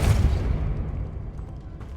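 A Confringo blasting spell bursts in Hogwarts Legacy, a single deep booming explosion at the start that rolls off into a long low rumble, with no talk over it.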